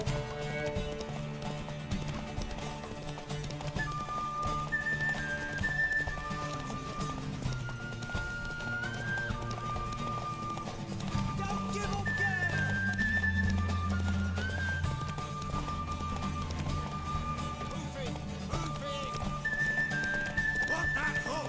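Horse hooves clip-clop and a horse neighs in the video game The Witcher 3, a steady trotting rhythm under game music and character voices.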